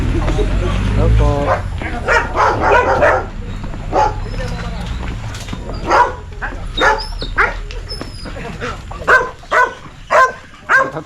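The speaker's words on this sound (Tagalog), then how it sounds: "Tatapang na aso. Ay, yung tatapang." Two large, fierce dogs bark repeatedly by railway tracks, with loud close barks in uneven bursts and yips mixed in, while people talk over them.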